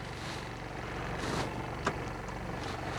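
A Toyota Hilux Surf, a Japanese import with a 3-litre four-cylinder engine, pulls away in drive with a steady low engine drone, heard from inside the cabin, and a brief sharp knock or click partway through.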